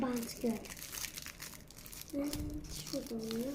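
Crinkling of a foil wrapper as a football card pack is torn open, in short rustling bursts close by while children talk over it.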